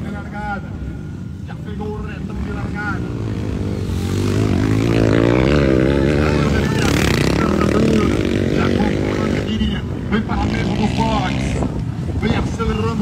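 A motocross motorcycle accelerates on a race track during a women's national category race in Nova Floresta, its engine rising and whining from mid-distance and swelling louder partway through, beneath continuous announcer commentary over a loudspeaker.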